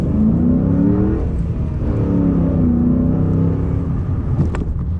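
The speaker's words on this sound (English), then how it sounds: "Still got that sound, still got that muscle car sound." A 2007 Ford Mustang GT's 4.6L three-valve V8 with manual transmission roars as it accelerates, a loud, deep, continuous rumble with rising pitch, heard from inside the car.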